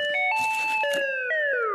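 Doorbell in a Chilean sitcom home, a loud electronic multi-tone chime stepping through several descending notes and ringing out alone over a brief moment.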